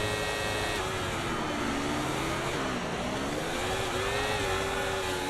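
F1 24 race cars launch off the grid together in the video game, a continuous loud engine roar with rising and sliding whine as the pack accelerates, no talking over it.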